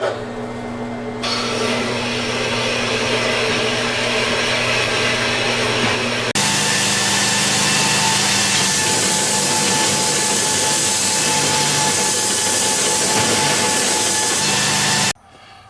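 A bar of ladder pattern damascus steel being cut off with a power tool, a steady loud grinding whine that starts after a quieter hum, shifts pitch partway through, runs continuously near and alone, then stops abruptly.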